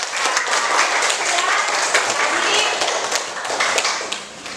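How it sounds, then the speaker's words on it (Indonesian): Applause from an audience in a classroom or school session in Indonesia, with dense, steady clapping that carries on for several seconds before easing off slightly at the end. "Kasih tepuk tangan."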